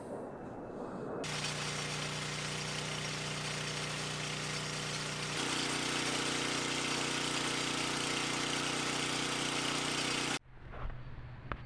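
A small 3.5 horsepower engine on old power equipment runs at a steady, loud drone close by, rises a little in pitch partway through, then cuts out abruptly near the end.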